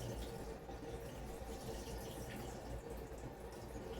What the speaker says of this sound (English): just drain this water